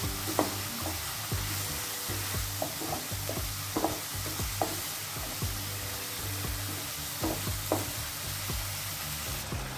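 Ginger, garlic and green chili paste is stirred into a fish masala frying in oil for doi katla. A continuous sizzle runs under repeated scraping strokes of a spatula against the pan.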